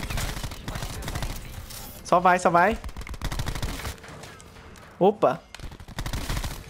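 Gunfire from a first-person shooter match, with two short loud bursts of rapid shots, the second briefly louder and closer. Someone talks excitedly between and around them.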